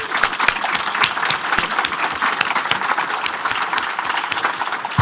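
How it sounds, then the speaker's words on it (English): Audience at a neuroscience conference symposium applauding the speakers, a lively round of many hands with sharp individual claps standing out, sustained for several seconds. "a big round of applause for the speakers"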